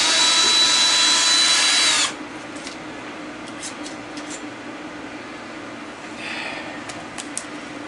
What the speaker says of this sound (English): Okay, when it buzzes off the top, I know you can't see the drill.